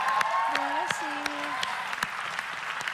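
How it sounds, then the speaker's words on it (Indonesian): A studio audience at a live televised music show claps in a steady, sustained burst of applause while a presenter's voice carries over it. "Tepuk tangan sekali lagi dong untuk Desta."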